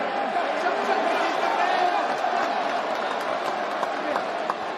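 An arena crowd at a UFC event cheers and claps continuously in a dense, roaring wash of noise that holds steady from start to finish.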